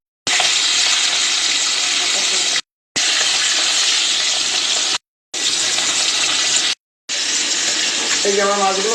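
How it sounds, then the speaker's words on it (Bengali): Turmeric-coated tangra fish fry in hot oil in a pan, a loud, dense, close hiss broken into four long stretches by abrupt silences, with a faint voice briefly at the end. "এবার আমি মাছটাকে ভাজি।"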